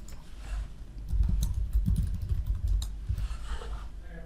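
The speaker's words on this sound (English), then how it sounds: "Start typing the address into the address search field." Fingers tap rapidly on a computer keyboard, a steady flurry of soft clicks close by, with no one speaking.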